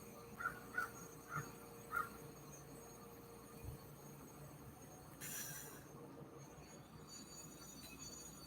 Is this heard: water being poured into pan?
no